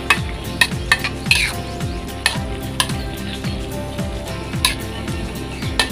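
Repeated scraping strokes of a utensil against a pan, steady and rhythmic, with a faint sizzle underneath and occasional metallic clinks, while stirring a Thai jungle fish curry with fish sauce.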